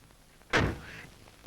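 A door is shut in the 1962 Hindi film Dil Tera Deewana with one heavy, close thud that rings briefly and fades. A second sharp knock follows just before the end. No one speaks.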